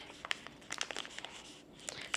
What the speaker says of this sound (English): Scissors it is.